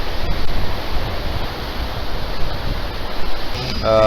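Chilly wind blowing straight off a lake, a loud, steady rushing roar buffeting close by, with a faint voice near the end.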